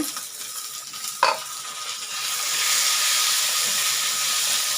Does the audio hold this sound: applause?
no